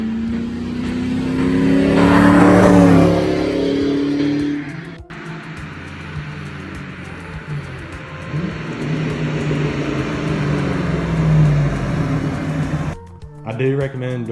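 A 1999–2004 Ford Mustang's engine revs up loudly with a deep, throaty Flowmaster exhaust, then settles into a rumbling drone before cutting off, a brief voice following at the end.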